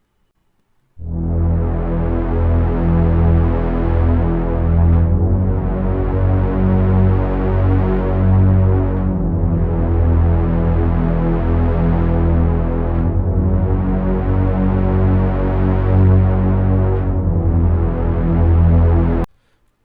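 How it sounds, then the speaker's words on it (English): A solo bass guitar plays alone, loud and close, with notes in long sustained phrases separated by brief gaps, no drums or voices. "let me solo the bass track, and let us take a listen to what it sounds like"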